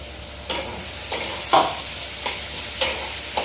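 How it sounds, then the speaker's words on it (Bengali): Spice paste for a kabuli chickpea curry fries in oil under a continuous sizzle, while a spatula stirs and scrapes the pan in a regular rhythm about every half second. "যতক্ষণ না মশলা থেকে গা থেকে তেল ছেড়ে দিচ্ছে ততক্ষণ আমি মশলাটা কষিয়ে নেব"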